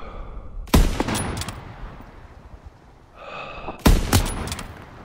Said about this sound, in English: Great shooting, Daniels.